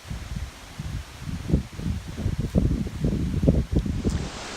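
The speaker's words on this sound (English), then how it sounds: "But as you can see how windy it is" Wind rustles leaves in southern woods on a gusty day, a steady, close, continuous rush with fluttering swells and mic buffeting, no voices.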